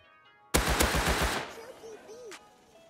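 Gunfire in the survival video game Rust, with a sharp onset into a dense burst of rapid automatic shots, then quieter distant game sounds.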